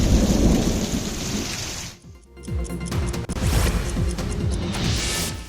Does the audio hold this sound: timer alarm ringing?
no